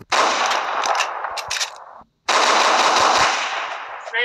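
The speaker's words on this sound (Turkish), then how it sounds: "hoca bir silah sesi duyar ve sesin nereden duyduğunu sorar" Rapid cartoon gunfire bursts, loud and close, rattling like a machine gun, cut by a brief silence before another sustained volley.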